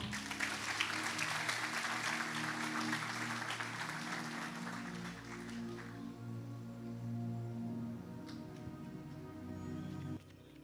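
Broad, sustained applause from a church congregation, loud at first and easing off toward the end, with a steady musical drone underneath.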